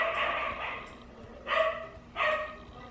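Several dogs bark in three separate bursts, the first longer and the last two short and sharp, fairly close and loud, with no one speaking.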